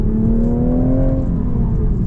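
Toyota GR Supra Track Edition with a manual gearbox, its engine droning steadily in a low gear on a tight winding road, the pitch slowly rising and falling, close and loud with no voices.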